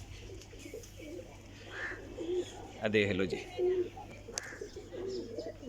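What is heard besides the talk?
pigeons cooing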